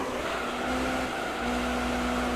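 A race car engine in Gran Turismo 3 holds a loud, steady high-revving drone, with no voices over it.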